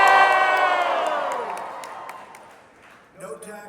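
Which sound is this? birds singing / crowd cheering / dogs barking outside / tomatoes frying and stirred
crowd cheering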